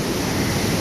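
Steady, loud broadband roar of rushing water at the top of a waterfall above Little Yosemite Valley in Yosemite National Park, continuous and unbroken, with no voices.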